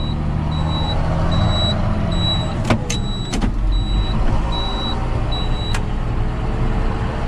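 A John Deere 6630 tractor engages drive and pulls away in mud with a load of nine plates: a steady, close engine rumble runs throughout, with regular high electronic beeps and a few sharp clicks.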